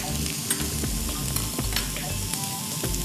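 Onions sizzle and crackle steadily in a hot pan while being stirred, a close, continuous frying hiss with occasional sharper pops and scraping, no voices.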